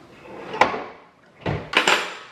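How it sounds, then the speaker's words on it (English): A kitchen drawer slides on its original drawer slides: one sharp knock, then two rolling slides that end in bumps, close and loud, in a drawer fitted with a two-tier cutlery organizer. "I've got it hooked up with my original drawer slides now."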